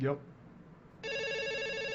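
A call-in phone line rings with a steady electronic telephone bell in the second half, loud and continuous, following a brief spoken word at the start.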